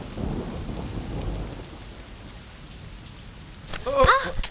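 A thunderstorm outside a house: steady rain patters throughout, and a loud thunder crack with rumble bursts near the end.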